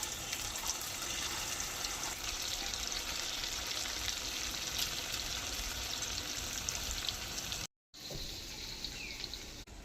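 Water poured into a pan of ridge gourd curry in a village kitchen, a steady broadband gush and sizzle running continuously, close and fairly loud, with a brief cut near the end before the pouring resumes.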